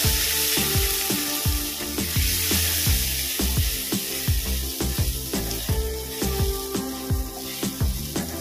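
Ground spices with salt and turmeric fry in hot oil in a pan, a loud continuous sizzle broken by rhythmic stirring scrapes, with no voices.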